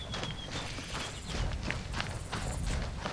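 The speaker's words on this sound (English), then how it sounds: "We've got a advancing goat, basically." A goat in the military game ArmA 3 steps toward the listener, its hooves making a steady, muffled clip-clop over ground noise. The sound is fairly faint and plays alone, with no speech.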